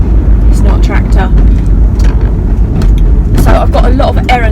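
A noisy Land Rover drives along with a loud, constant engine and road rumble, and a person talks over it throughout.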